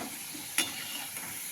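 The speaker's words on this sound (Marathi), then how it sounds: "अशा प्रकारे हे थोडे थोडे करून आपण असे तळून घ्यायचे" Traditional jaggery gadgil sweets fry in oil in a pan over low heat, giving a soft, steady sizzle with one brief clink of a utensil partway through, and no voices.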